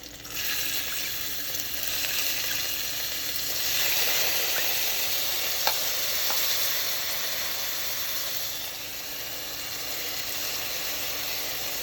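Garlic and farro grains frying in a pan over medium-high heat, a steady close sizzle and hiss that runs throughout with a few faint clicks.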